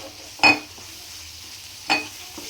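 Khoya cooks with a little pure ghee in a pan, a low, steady sizzle broken by two distinct spoon scrapes or clinks against the pan, the second about a second and a half after the first.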